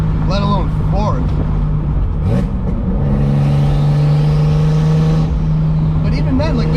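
A turbocharged BMW E30 with its M20B25 engine pulls hard on boost, a sustained droning engine tone rising in pitch with whooshing turbo spool, interrupted by a brief shift, while someone talks over it.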